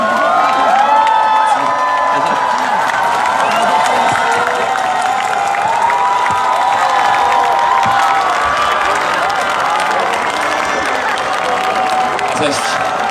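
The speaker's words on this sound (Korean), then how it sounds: "박수로 모셔주세요." A large outdoor crowd at a candlelight rally in Gwanghwamun, Seoul, cheers and applauds steadily with whoops and shouts, and voices carry through the noise.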